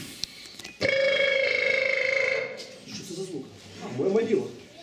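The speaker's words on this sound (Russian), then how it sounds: "Мой мобил." A mobile phone rings with a steady electronic tone for a couple of seconds after a sharp click, then stops as a voice starts speaking.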